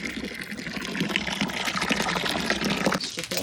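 Tap water runs steadily while something is washed under a cold stream, a continuous close rushing and splashing that holds for the whole stretch.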